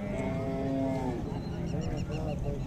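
At a cattle market in Muhammadpur, a calf moos loudly and close up, first with a long, drawn-out call and then a shorter one, over background crowd noise and faint honking.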